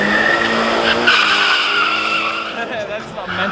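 A car doing a burnout on a spare tire at a street race event, a loud sustained squeal and screech with a roaring engine nearby, and people talking and shouting over it.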